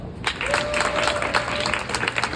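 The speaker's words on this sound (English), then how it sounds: "give yourself a round of applause because this is awesome" A poetry club audience at Palms & Poetry in the Books & Books store in Miami applauds with steady, dense, close clapping that fills the whole moment without a break.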